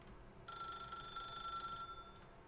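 A telephone rings in The Stanley Parable video game, a sustained bright electronic bell trill lasting over a second against faint background hum.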